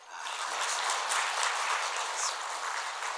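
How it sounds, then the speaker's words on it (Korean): A church congregation at a Sunday service applauds to welcome newcomers, a steady, even wash of clapping that fills the room for a few seconds. "우리 박수로 환영할까요?"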